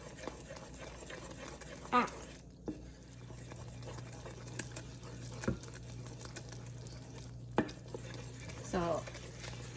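Pecan pie filling stirred in a pan on a medium-high stove, heard as soft repeated scraping and faint bubbling over a low steady hum, with a few sharper clinks of the spoon against the pan.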